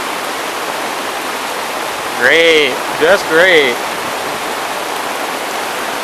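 Rain falls steadily onto a canopy, making a continuous close wash of noise. A voice speaks briefly over it midway through.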